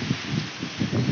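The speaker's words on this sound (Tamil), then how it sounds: "சரியான காத்து அடிக்குது பாருங்க, சரியான காத்து அடிக்குது, பயங்கரமா இருக்கு," Strong cyclone wind from Cyclone Mandous in Chennai, a steady broadband roar with low gusty surges, close and loud, with no speech over it.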